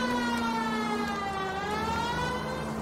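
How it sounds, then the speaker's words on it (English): Police siren in the video game LA Noire wails steadily and loudly throughout, a continuous close electronic tone with slowly sweeping pitch and no talk over it. "maybe if I just turn the siren off,"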